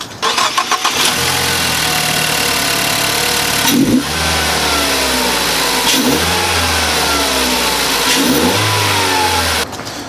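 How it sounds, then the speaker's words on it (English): A Ford Focus engine revs hard in three loud bursts with an open air filter, each dropping back to a rumbling idle, with a faint turbo whine rising over the roar. "you can hear a little bit more of the turbo spooling"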